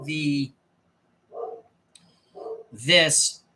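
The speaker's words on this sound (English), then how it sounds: "Captain Fantastic barking once again." A dog barks in a few short, separate bursts at close range, with a louder, fuller bark near the end and a person talking in between.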